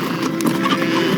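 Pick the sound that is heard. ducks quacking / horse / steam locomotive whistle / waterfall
horse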